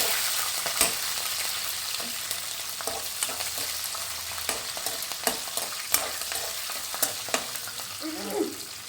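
Green chillies fry in oil for a poha upma, giving a close, steady sizzle. Repeated sharp taps and clinks of a spatula against the pan come at irregular intervals throughout, with no talking.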